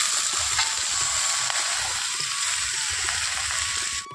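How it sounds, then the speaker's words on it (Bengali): Water spinach (kolmi shak) dropped into hot oil over fried onion, giving a steady dense sizzle and hiss, close and fairly loud, continuing evenly before cutting off at the end. "এখানে আমি এখন শাকটা দিয়ে দিচ্ছি।"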